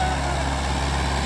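A Mahindra 575 XP Plus 47 hp tractor pulling a 7-foot rotavator during a village field demo gives a steady, loud, low engine drone with a constant rumbling hum.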